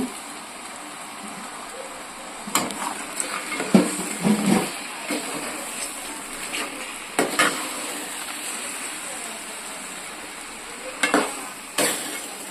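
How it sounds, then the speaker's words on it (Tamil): Crab pieces for crab masala sizzle in a pan under a constant hiss, broken by intermittent scraping stirs and clinks of the utensil against the pan, close and without talk. "இப்போ நண்டெல்லாம் நல்லா போட்டு கிளந்து விட்டுட்டேன்"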